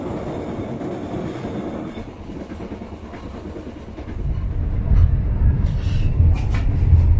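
A passenger train on the Jakarta to Tegal route rolls along with a steady, rumbling rail roar and faint clickety-clack of wheels, the low rumble swelling louder in the second half; no talking.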